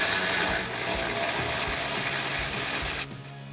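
Ratchet wrench with an 18 mm socket backing out frame bolts on a 2019–2020 Chevrolet Silverado 1500, a steady run of rapid clicking pawl ticks, close and loud, stopping abruptly near the end.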